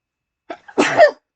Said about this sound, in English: so the Chipotle makes me sneeze